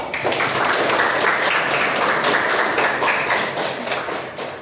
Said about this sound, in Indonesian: Tepuk tangan dulu, Akid.